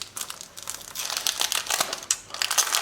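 Sheets of vellum and acetate from a planner subscription rustle and crinkle as they are handled up close, a loud, busy crackle with bursts of sharper crumpling.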